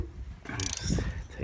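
A ratchet loosening a spark plug on a 2014-2018 Mazda 3 with a 14 mm socket and extension, giving a short burst of quiet, close clicking.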